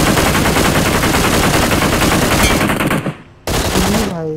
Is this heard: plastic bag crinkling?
no